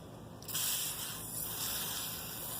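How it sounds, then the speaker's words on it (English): WD-40 sprayed from an aerosol can onto a crankshaft and wet/dry sandpaper, a steady close hiss starting after a brief pause and continuing to the end. "spray this down some WD-40, as well as the piece of sandpaper you're going to be working with"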